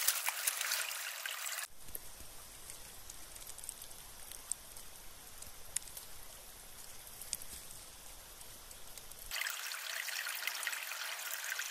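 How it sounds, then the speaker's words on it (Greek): Spring water flowing out of the mountainside at the source of the Sakouleva river near Florina, a continuous close rushing stream with steady trickling and splashing, louder at the start and end. "Σε αυτό το σημείο βγαίνει το νερό μέσα από το βουνό."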